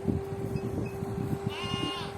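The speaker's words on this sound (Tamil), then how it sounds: "இத்தனை ஆட்டுக்குட்டியும் உண்டாடா ஜபா?" Several young goat kids bleat repeatedly close by, overlapping high wavering cries over a steady low hum, with no talk.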